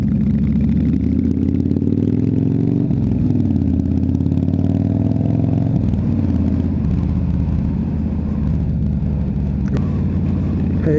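A big V-twin motorcycle engine rumbling loud and close, a deep throbbing drone that rises and falls as it revs, steady throughout.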